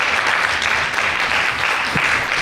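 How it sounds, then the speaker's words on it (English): A room at a school board of education meeting breaks into steady, even clapping from many hands, fairly close and continuous throughout with no talk over it. "You can clap."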